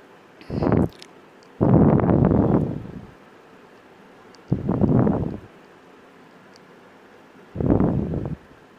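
Sewing machine running picot edge stitching along the border of a fabric nose piece, in four separate short bursts broken by quiet pauses, close and moderately loud.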